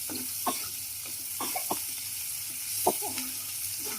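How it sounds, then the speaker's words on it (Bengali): Chicken pieces fry with chillies in a pan for biryani, a steady soft sizzle running throughout with a few sharp stirring scrapes and clinks scattered across it, close and moderately loud, no voices. "গোস্ত গুলাকে আমরা কষায় নেব"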